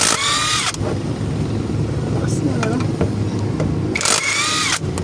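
A cordless impact driver takes bolts off during clutch work on a 4HL1 engine's manual transmission, letting out two short, loud, rattling bursts at the start and near the end. Someone talks steadily in between.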